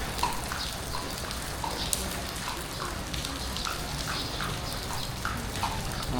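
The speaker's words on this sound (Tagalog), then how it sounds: "Ayan, may kabayang dumadaan." A horse's hooves clip-clop past on a street in an even, steady rhythm over a continuous wash of monsoon rain.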